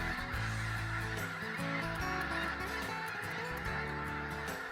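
Snow geese honk in a dense, continuous chorus, with many overlapping calls blending into a loud, steady din.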